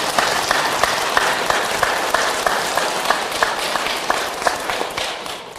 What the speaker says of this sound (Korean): 뜨거운 박수 한번 부탁드리겠습니다